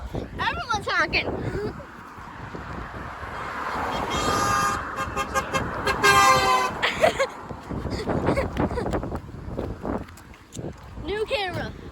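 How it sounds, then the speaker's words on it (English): Passing cars on a road near the sea honking their horns, a long drawn-out horn blast in the middle with shorter toots around it, under excited voices and wind. "Everyone's honking!"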